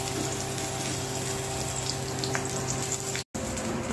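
Cashews, onion, garlic, ginger and chili fry in hot oil in a home kitchen. A steady, continuous sizzle and bubble runs close and even throughout, with one abrupt brief dropout near the end and no talking.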